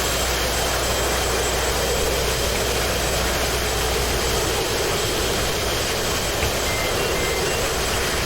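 F-18 Hornet jet engine roaring during takeoff in the DCS flight simulator, a dense, steady broadband roar with a low rumble, loud and unbroken throughout, no voices.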